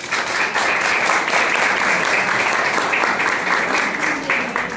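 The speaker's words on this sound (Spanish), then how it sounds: "El aplauso para él." Dense, steady applause from an audience at an art exhibition awards event, a loud continuous wash of many hands clapping with no pauses, filling the whole stretch.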